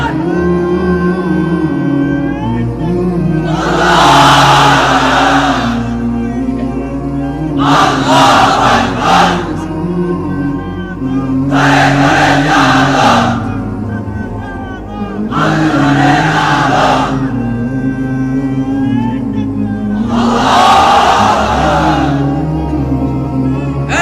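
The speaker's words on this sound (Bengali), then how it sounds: "এবার অবিবাহিতরা দাও লিল্লাহি তাকবীর।" A large crowd of unmarried men at a religious gathering chants the takbir in loud, massed unison, with roughly five roaring bursts coming in regular waves, and a single voice leads between them.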